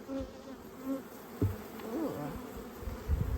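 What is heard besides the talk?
honeybees buzzing around open hive frames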